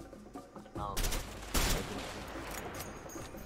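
Rapid gunfire bursts in the video game A Way Out during a gunfight escape scene, loud broadband blasts with sustained rattling, one sharp burst standing out midway, mixed with game noise.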